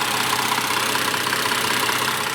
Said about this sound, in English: an Ingenium Series straight 6 that runs a hybrid electric boost, turbocharger, and 48-volt hybrid-fired electric supercharger